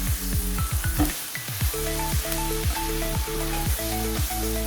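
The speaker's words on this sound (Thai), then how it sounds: "แล้วก็เริ่มผัดทุกอย่างให้เข้ากันให้หมดเลยครับ" Mama instant noodles with soy sauce being stir-fried in a hot pan: a continuous close sizzle with scraping tosses, under a repeating rhythmic pattern of low tones.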